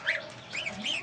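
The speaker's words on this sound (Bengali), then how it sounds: "এই যে আপনারা দেখতে পাচ্ছেন হাঁসের বাচ্চাগুলো" Ducklings call in a few short, high bursts spread across about a second, moderately close, over a faint background hiss with no one talking.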